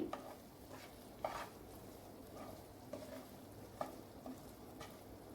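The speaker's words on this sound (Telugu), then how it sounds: "ఇదిగోండి మటన్ వేగుతుంది బాగా వేగాలి" Mutton fries in a pot with a faint, low sizzle while a spoon scrapes and taps against the metal every second or so, quiet and without talk.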